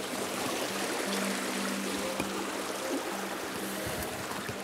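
Creek running high after rain, a steady broadband rush and trickle of flowing water close by, continuous with no talk, a faint low hum underneath.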